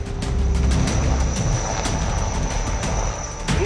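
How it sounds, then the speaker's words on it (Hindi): Chinook and Rudra military helicopters during an army exercise in Arunachal, a loud continuous rotor roar with rhythmic blade chopping, near and steady throughout with no talk. "चिनूक और रुद्र हेलीकॉप्टर।"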